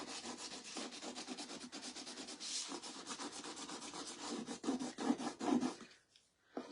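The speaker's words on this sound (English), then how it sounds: "we're just going to scrape, and once you get started, it'll go pretty quickly." Old chalk paste is scraped off a board in steady, rhythmic rubbing strokes, close and fairly loud, easing off into quiet near the end.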